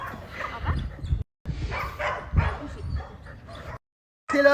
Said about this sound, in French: Elle est gentille cette chienne,